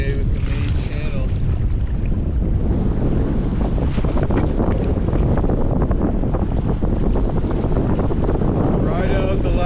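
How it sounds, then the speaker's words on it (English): Strong headwind on the Bonnet Plume River in the Yukon wilderness roars steadily across the microphone while paddling, a loud continuous rush with wave and water noise underneath. "a wicked headwind just blew up, spun me backwards"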